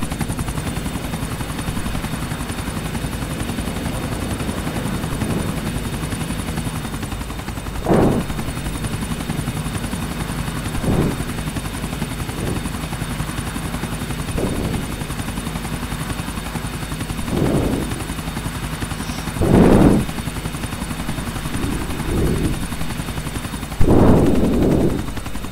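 A helicopter in the video game Grand Theft Auto IV drones steadily throughout, with its rotor hum joined by scattered sharp gunfire bursts at irregular intervals and no talking.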